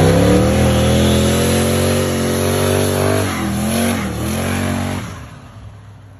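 A car engine, tuned with a Terminator X system, revs hard and loud in a played recording, holding a high rising roar before dropping off and fading near the end.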